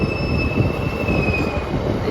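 Local train pulling out of Waria station, with a rumbling run of wheels under a thin, sustained high-pitched squeal from the wheels, heard from on board.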